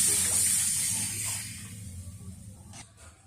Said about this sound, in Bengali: এবার আমি জলটা দিয়ে দিই।